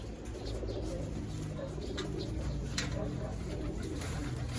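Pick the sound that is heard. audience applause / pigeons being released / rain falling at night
pigeons being released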